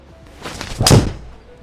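A golf club strikes a ball in an indoor golf simulator, a single sharp thwack near the middle of a short quiet stretch, close and fairly loud.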